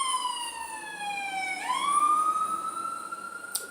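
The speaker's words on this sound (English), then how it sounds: "now I got my window open, guys, so here comes the ambulance" An ambulance siren passes outside an open window, a loud wailing tone sweeping down then up again as the vehicle goes by, with no speech over it.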